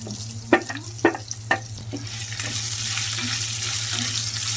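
Onion pieces sizzle in a pan after a few stirring scrapes, the frying hiss swelling into a steady bright crackle, with no one speaking.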